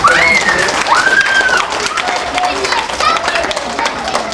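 An audience at a library magic show gives a round of applause, a loud, busy burst of clapping with excited vocal whoops and cheers rising over it, tapering slightly toward the end.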